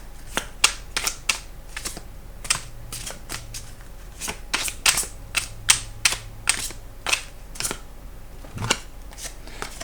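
Cards for a tarot-style reading are shuffled and drawn, giving a run of crisp, irregular riffling snaps and flicks, close and clear with no talk.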